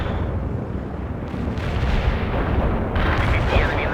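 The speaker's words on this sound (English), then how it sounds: "Artillery strike on the way." A continuous rumbling roar of artillery barrage strikes in the video game World in Conflict, with heavy booms blending into a loud, sustained wall of explosions.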